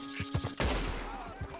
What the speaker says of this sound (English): This dude's popping me from afar.